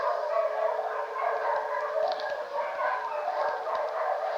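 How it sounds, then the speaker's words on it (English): Several dogs bark and howl together at night, a steady chorus of overlapping howls that sounds somewhat distant and continuous throughout, with no talking. "my dogs like to do this every once in a while where they all just start barking and howling at the moon"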